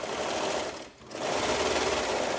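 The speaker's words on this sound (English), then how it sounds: "can see I'm taking a 1/2 inch seam allowing my serger to trim off a 1/4 inch" A serger runs fast and steady while sewing a seam on jacket cuff fabric, its rapid mechanical whir dipping briefly in the middle before continuing at full speed.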